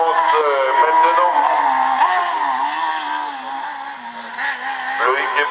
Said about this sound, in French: Loïc Héberger au volant de ce BRC